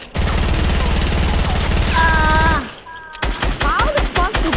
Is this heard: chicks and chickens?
no